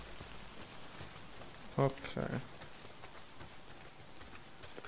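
Steady rain pours down in the video game Days Gone, a constant hiss of drops on surfaces, while a voice speaks briefly midway.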